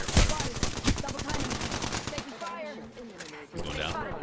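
Gunfire in the video game Apex Legends, a rapid run of shots in the first two seconds that gives way to game sounds, with voices talking over it.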